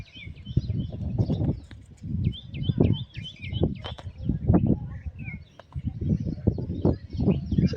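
Birds call and chirp in a quiet village, heard from a terrace, their scattered tweets overlapping steady low rumbling and occasional louder thuds throughout.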